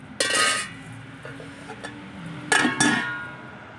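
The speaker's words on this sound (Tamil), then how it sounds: "இனி அப்படியே மூடி வச்சுருவோம்." A metal lid clinks onto a cooking pot of urad dal rice in a home kitchen, with two bright clattering bursts separated by a few soft taps, loud and close.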